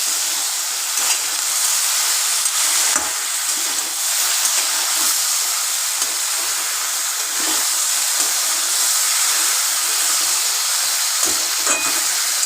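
Okra fries in oil in a pan for a Bengali yogurt okra dish, giving a steady, close hiss and sizzle that continues throughout with faint crackles and no talking.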